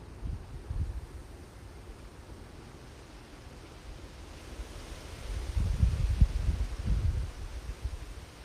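Breezy outdoor wind rumbles low and steady against the microphone, swelling into stronger gusts toward the end, with no voices.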